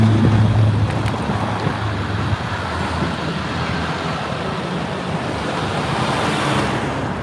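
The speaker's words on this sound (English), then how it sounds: "I'm going against traffic here." Steady road traffic in New York City on a late morning, heard from a car driving against the flow, a continuous dense rumble of engines and tires with no speech.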